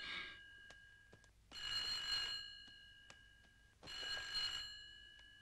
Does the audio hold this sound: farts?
no